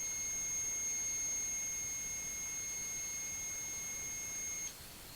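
A REM pod ghost-hunting device emits a steady, high-pitched electronic tone that holds continuously for several seconds and then cuts off, alone with no talking.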